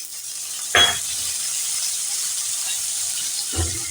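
Soaked chickpeas tipped into a pan of fried potatoes and pumpkin cooked in very little oil give a steady sizzle, broken by two short clattering thuds near the start and the end.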